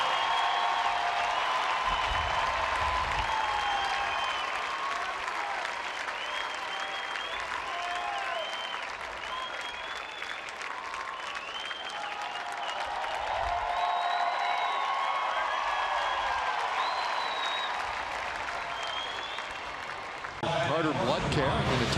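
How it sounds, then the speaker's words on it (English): Baseball stadium crowd applauding as a pitcher leaves the game at a Texas Rangers home game against the White Sox; sustained, distant-sounding clapping and cheering from a large crowd, with whistles and shouts rising and falling throughout. "Bartolo Colon will get a nice round of applause here"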